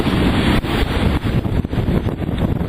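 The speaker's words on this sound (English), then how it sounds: "They've got quite a big following sea, swell of 3 metres plus, winds of over 20 knots, apparent wind that is." Strong wind over 20 knots buffeting a sailing boat running before a following sea with a three-metre swell, loud roaring gusts and rushing water, close and continuous, without voices.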